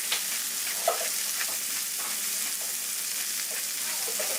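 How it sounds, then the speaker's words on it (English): Onions sweating in a pan with rosemary, salt and pepper for a pub-style shepherd's pie, a steady close sizzle with faint occasional stirring taps underneath, no speech. "Getting everything nice and sweated. Sweat the onions"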